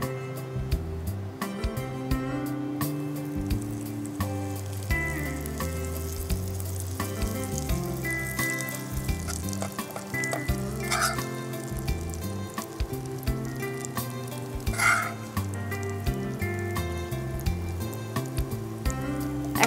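Pancake batter fries in melted butter in a pan for stuffed pancakes, a steady soft sizzle running throughout with occasional brief clinks and scrapes of a utensil.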